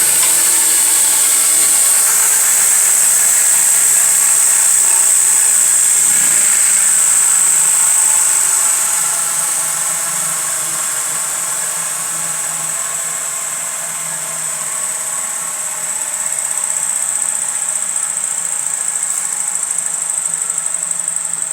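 A 1912 Spencer Turbine built-in vacuum motor running below full speed, giving a steady high-pitched whine over a broad airy rush that dips slightly midway and then recovers, loud and close.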